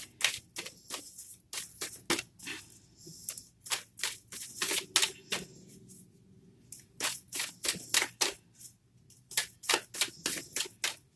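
Tarot cards are shuffled and drawn close up, with quick bursts of crisp riffling and flicking slaps in irregular runs and short pauses, and no talk.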